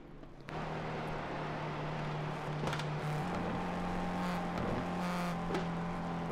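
A Clio Cup race car in a sim racing game at Snetterton, engine held at a steady drone as the throttle is feathered through a long right-hander, with faint tyre and gear noises over the continuous hum.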